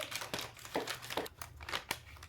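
Scissors snipping open a plastic package for a resin molds box, heard close and fairly quiet as a run of crinkling, rustling bursts with a few sharp snips scattered through the stretch.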